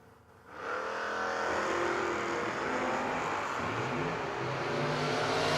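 Drag race cars, a Duster and a 1980 Mustang, launch at the start line of a no-box drag race, engines surging to a loud, sustained roar after a brief quieter moment and holding steady to the end.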